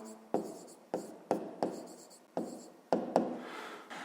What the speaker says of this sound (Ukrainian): Ну що ж, записуємо, пишемо тоді.